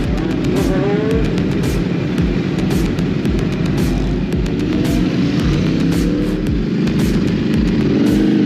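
Several motorcycles roar at close range on a race track, engines revving and whining together in a loud, continuous racing din.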